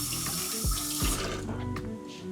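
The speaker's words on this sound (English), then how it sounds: "Let me wash my hands." Hands being washed under a running faucet at a riverside cooking spot, a steady close stream of water splashing into a sink with brief shifts as the hands move through it, no voices.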